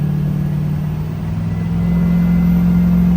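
A vehicle engine with a non-VGT turbo is held at about three-quarter throttle while the transmission refuses to shift, giving a steady, loud droning rumble with a constant low hum throughout.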